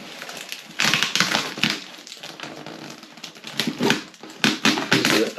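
Butcher's knife once used for cutting ribs in a slaughterhouse, slicing into a vintage Palitoy Action Force AF-5 toy: irregular bursts of crunching, cracking and scraping, close and fairly loud, with short pauses between cuts.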